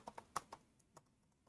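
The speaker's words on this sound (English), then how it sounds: "when I'm typing a paragraph" Scattered keystrokes on a computer keyboard form a short burst of quiet, close clicks with uneven spacing that thins out toward the end.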